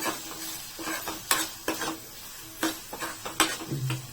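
Hot spiced tempering poured into cooked dal for masala pappu and stirred, a spoon scraping and knocking against the pot in uneven strokes over a soft sizzle, close by with no talking.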